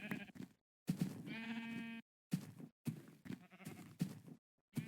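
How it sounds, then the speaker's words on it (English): Sheep in Minecraft (Timelocke Enhanced) bleat repeatedly in a flock, several separate wavering calls following one another at close range, with short gaps of silence between them. "we do got tons of sheep here"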